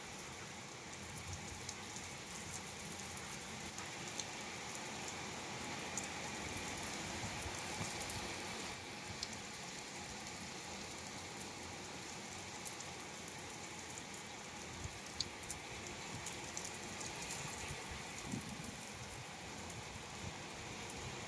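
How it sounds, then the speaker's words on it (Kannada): Steady, dense rainfall with wind drumming on surfaces, continuous and fairly loud throughout, with a faint gusting wash underneath and no voices. "ಸೊ ಫೈನಲಿ ಇವತ್ತು ಮಳೆ ಆಗಕತ್ತೈತಿ"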